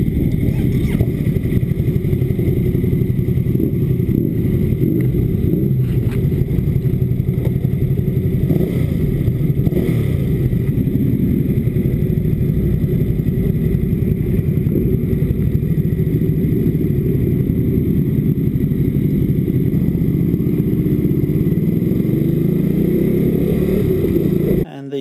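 A Ducati SuperSport S with a 937cc Testastretta engine rumbles steadily while ridden, its low, continuous engine drone and wind noise holding at a loud, even level throughout.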